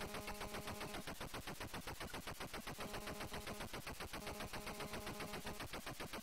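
Rapid, steady automatic gunfire rattles without pause in the retro game F16 Renegade, a dense continuous burst of shots heard fairly faintly with no voices.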